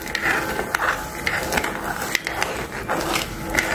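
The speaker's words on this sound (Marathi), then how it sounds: "आता हे एक साखर हलवून घेऊ" A spoon stirs sugar and water in a pan for a quick syrup for fasting-style gulab jamun, making steady rhythmic scraping strokes roughly every half second, close and moderately loud, with no talk.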